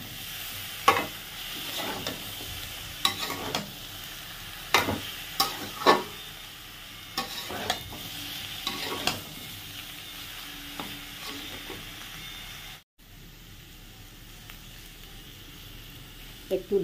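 Spices being sautéed and stirred in a pan for a potato and pointed gourd curry, with a spoon scraping in repeated strokes over a steady sizzle, close and clear, then a brief pause before the frying continues.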